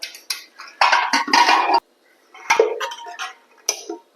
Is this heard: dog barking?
no